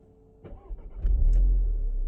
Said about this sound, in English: I'm just going to turn the car on